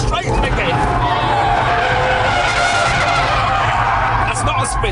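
Porsche 911 C4S or Audi R8 sliding into a half-spin, with loud continuous tyre squeal and engine roar lasting throughout, close and sustained.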